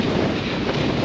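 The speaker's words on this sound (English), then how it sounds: "So windy. It's so windy." Strong wind roaring and buffeting a microphone during a muddy marathon, a constant low rumble with no speech.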